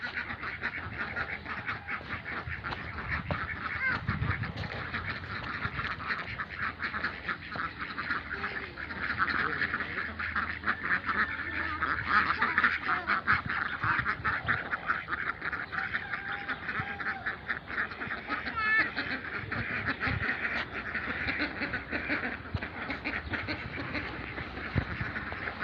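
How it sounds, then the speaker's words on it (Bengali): Ducks quack in a steady stream, fairly close and loud, with a clamour of calls layered over one another and going on without a break. "এই যে একটা হাঁস"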